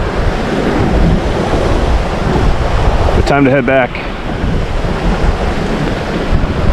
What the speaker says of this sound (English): Other than the wind and the waves, it's so quiet.